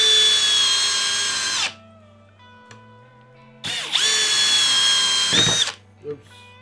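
A Hercules brushless drill drives screws into wood in two separate bursts, each a loud, high motor whine that winds down. A short quiet pause comes between the bursts, and small clicks and handling noises can be heard.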